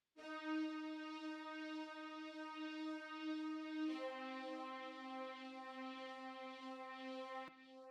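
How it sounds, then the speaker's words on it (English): A synth string pad preset from the Purity plugin holds two long, soft sustained chords, the second taking over near the middle, with a faint tick near the end. "Then I added this string pad from Purity"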